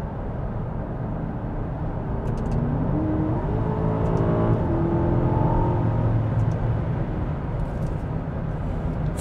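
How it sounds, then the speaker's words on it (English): The four-litre twin turbo V8 of an Aston Martin DBX SUV in track mode revs up and settles, a steady muffled drone heard from inside the cabin with a rising then falling pitch. "Four-litre twin turbo V8."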